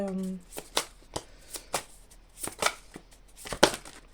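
Tarot cards being shuffled by hand before a reading, a series of crisp riffling bursts in an irregular rhythm, close and fairly quiet, with a brief voice at the very start.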